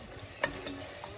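Pav bhaji sautés in a pan, a brief soft sizzle with one quick stirring scrape, heard close and fairly quiet with no voices.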